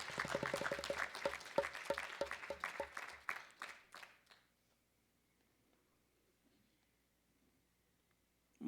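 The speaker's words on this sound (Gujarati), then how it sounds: "એક વખત તાળીઓથી એમને વધાવી." An audience claps together at a religious discourse, a dense burst of applause that fills the first four seconds and then cuts off into near silence.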